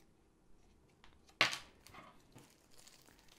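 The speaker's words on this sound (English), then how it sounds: "Plastic bags," Plastic bags from a diamond painting kit rustle and crinkle when handled, with one sharp crackle followed by softer scattered crinkles, close and quiet.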